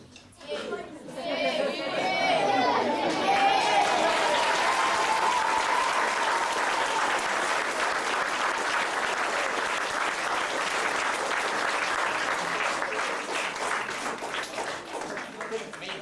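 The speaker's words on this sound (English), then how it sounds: "is there anyone who should have received a round of applause who hasn't?" An audience at a school play breaks into applause that swells after a moment and holds as sustained clapping, mixed with crowd chatter and some voices.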